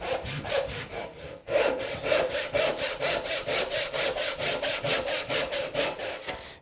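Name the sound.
hand saw cutting tenon cheek in wood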